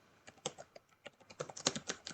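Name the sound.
typing on a computer keyboard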